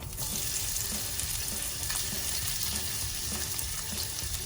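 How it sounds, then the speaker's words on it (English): Shallots sauté in a little oil with an even, steady sizzle and crackle that fills the whole stretch, close and without talk. "Now I'm going to saute the shallots."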